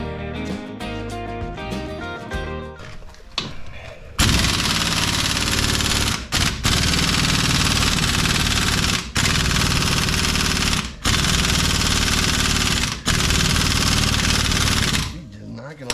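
Air impact wrench working loose a rear shock bolt on a 1980 Camaro, loud sustained hammering bursts that stop and restart several times with brief pauses, after some earlier clanking.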